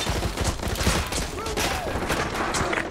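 Dense, continuous gunfire from a Call of Duty battle, with rapid bursts layered over a loud, steady wash of combat noise, and faint voices barely audible in the mix.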